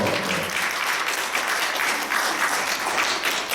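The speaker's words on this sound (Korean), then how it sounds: "박수 한번" Loud, dense applause from a church congregation during a Sunday worship service, many hands clapping steadily and close, with no voices over it.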